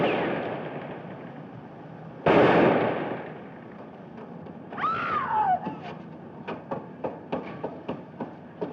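Gunfire in the 1948 crime film The Naked City: one loud, sudden blast, followed by a sliding whine and a string of sharper, quieter cracks spaced about a second apart.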